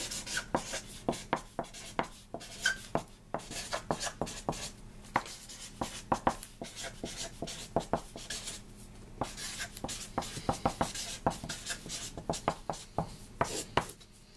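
A pen writes by hand on a temporary vehicle tag in quick scratchy strokes, close and distinct, with short pauses between bursts of writing.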